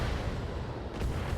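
Missile salvos fired in the mech combat video game BattleTech, a dense, steady rumble of launches and impacts running continuously at fairly low volume with no voices.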